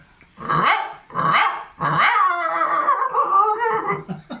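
A human voice imitates a dog, giving a few sharp barks followed by a drawn-out growling whine, loud and close.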